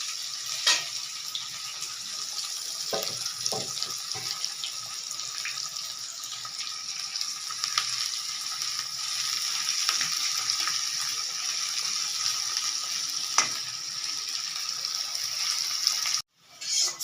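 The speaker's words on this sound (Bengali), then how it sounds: "পেঁয়াজটা যখন লাল হবে তখন আমি ম্যারিনেট করা মাংসটাকে ছাড়ব ভেজে নিই দু তিন মিনিট ধরে" Onions and marinated chicken frying in a pan for a Bengali chicken kosha, a steady hiss that runs for about sixteen seconds and then cuts out briefly near the end, with a few faint clinks and no talking.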